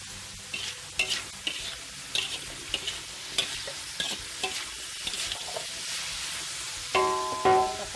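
Spicy anchovies with lenca sizzle steadily in a hot pan while a utensil scrapes and stirs at a regular pace, with a louder clatter of stirring near the end.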